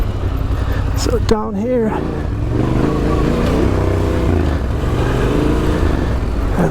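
Adventure motorcycle riding off-road down into a ditch, its engine a steady close rumble with a brief rising rev, under a rider's spoken commentary.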